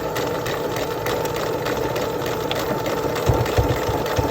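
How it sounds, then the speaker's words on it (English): Sewing machine stitching repeatedly over elastic on its lowest stitch setting while sewing a doll tutu, a steady mechanical hum and rattle with heavier thumps near the end as the needle strikes the elastic. "I will put it on my lowest stitch setting and go over that a few times"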